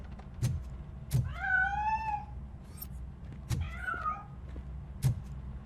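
In RoboCop: Rogue City, a cat gives two drawn-out, wavering meows, close and clear, between sharp knocks or thuds against a low background hum.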